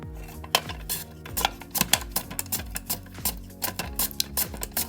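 Raw potatoes sliced thinly by hand for homemade crisps: a quick, steady series of close, crisp cutting strokes, each with a short metallic ring.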